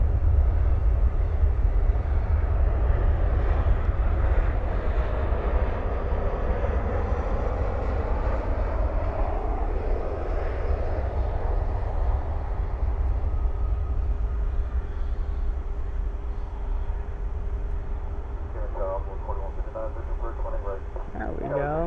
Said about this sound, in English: Get to see the spoilers up, reversers out, and the departure there.